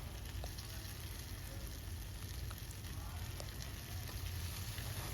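Mixed vegetables, including brinjal, ridge gourd and beans, frying with salt, turmeric, cumin powder and grated ginger in a pan: a steady, even hiss of oil with faint crackles, constant throughout and moderately quiet.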